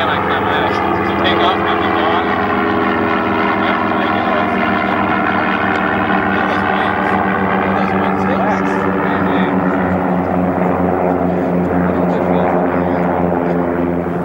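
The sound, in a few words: propeller aircraft taking off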